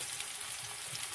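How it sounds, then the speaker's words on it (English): Fennel cooking in a pan gives a continuous, fairly soft sizzle and crackle, heard close and alone with no voices. "Meanwhile my fennel is cooking just right"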